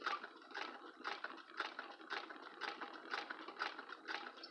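A hand-crank chain-stitch sewing machine stitching slowly, a soft, close series of evenly spaced mechanical clicks and rattling bursts, roughly two per second, with no talk.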